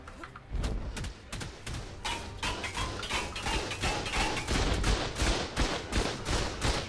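Rapid gunfire from the survival game Ark: Survival Evolved, shooting at C4 explosives, fires in dense overlapping bursts with heavy thuds, loud and nearly continuous, with faint voices underneath.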